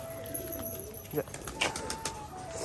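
Soft cooing from Giribaz pigeons at a pigeon farm, low and faint, murmuring in the background with a steady hum behind it.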